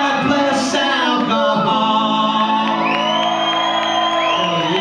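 A concert crowd at a show cheers, shouts and whoops loudly and continuously, with a raised voice near the start and bright sustained tones ringing over the roar.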